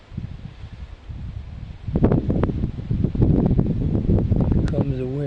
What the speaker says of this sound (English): Here comes the wind, so we're going to get a weather change here in just a few moments.